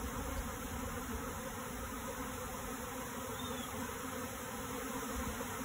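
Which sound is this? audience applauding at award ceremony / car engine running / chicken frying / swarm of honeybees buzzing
swarm of honeybees buzzing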